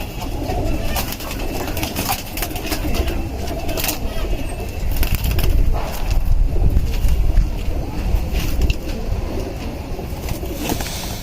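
Pigeons coo steadily in the background, soft and continuous, with rustling and a faint murmur of voices now and then.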